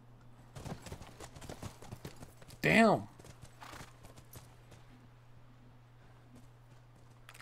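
Horse hooves clip-clop in The Last of Us Remastered video game, a run of quick, irregular hoof knocks, with a brief exclamation spoken in the middle and a loud call standing out above the hoofbeats.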